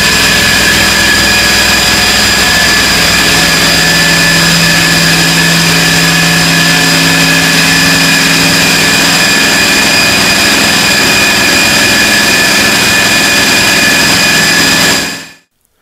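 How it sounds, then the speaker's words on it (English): A supercharged, intercooled 557 cubic inch big-block marine endurance engine built for a 35-foot race boat runs on a dyno, a very loud sustained roar with a steady drone that holds, then cuts off abruptly at the end. "The engine is one of two going in a 35-foot race boat."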